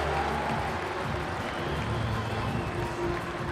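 Crowd at a The Hundred cricket match between Welsh Fire and Trent Rockets, a steady, dense roar of cheering and murmuring that holds at an even level throughout, with voices mixed into the wash.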